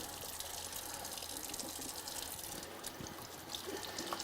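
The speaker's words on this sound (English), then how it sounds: "Rinse them off." Crabs are rinsed under a running kitchen tap, giving a steady rush of splashing water with small irregular spatters, continuous and fairly quiet, with no talk.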